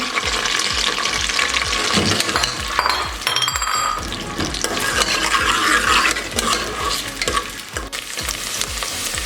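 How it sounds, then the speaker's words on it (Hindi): Sliced onions sizzling and crackling in hot oil, with frequent stirring scrapes and occasional clinks of a utensil against the pan, close and steady. "अब इसमें शामिल करेंगे और 2 मिनट के लिए इसे हम फ्राई करेंगे।"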